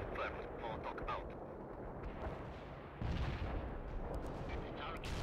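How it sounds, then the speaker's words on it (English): Heavy artillery strike in the video game World in Conflict, a dense continuous rumble of explosions and barrage booms that swells louder midway, with faint game radio chatter mixed underneath. "Heavy artillery strike fired."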